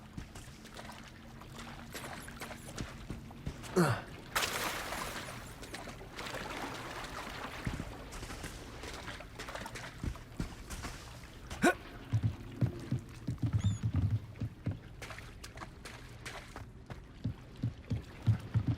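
Underground harbour ambience in Hogwarts Legacy: soft lapping water and a low steady hum, with occasional creaks, trickles and light footsteps or thumps scattered throughout, fairly quiet and with no talking.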